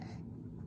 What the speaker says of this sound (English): Now I coughed.